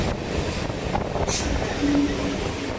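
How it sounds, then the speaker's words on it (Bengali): A Sealdah–Diamond Harbour local train arrives at Dakshin Durgapur, with a steady rumbling roar of wheels and carriage noise heard from onboard, a brief hiss and a faint tonal squeal near the end. "এখন আমাদের ট্রেন এসে প্রবেশ করেছে দক্ষিণ দুর্গাপুর"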